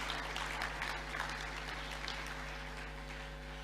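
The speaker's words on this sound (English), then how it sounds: "Please, shall we applaud her again?" Audience applause for Baroness Scotland, Secretary General of the Commonwealth, at the African Prosperity Champions Awards, a steady wash of clapping from a large crowd held over a low mains hum, slowly easing off.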